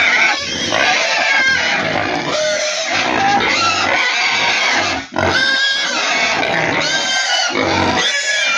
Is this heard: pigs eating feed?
yes